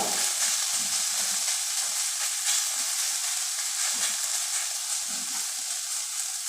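Softened pointed gourd (potol) fries gently on low heat for a mashed potol dish, giving a steady close hiss with faint scraping stirs now and then, no voices.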